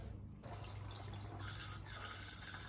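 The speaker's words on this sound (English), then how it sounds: "I'm experimenting with a pump and a filter, fuel filter." A small pump circulates fluid through a fuel filter while restoring the fuel tank of a Honda CT200 Trail 90, giving a steady, faint trickling and gurgling wash with no pauses.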